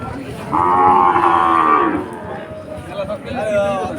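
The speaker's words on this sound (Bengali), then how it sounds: "খুবই সুন্দর গরু আছে এই হাটে দারুণ দারুণ গরু এই হাটে দেখা যায়" Cattle at a livestock market in Khulna, Bangladesh give a loud, drawn-out moo lasting over a second, with a shorter lowing call following amid the market's background chatter.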